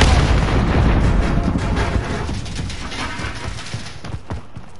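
Grenade explosion in Call of Duty Modern Warfare, a loud, heavy blast already underway that decays into a rumbling roar with scattered debris crackle.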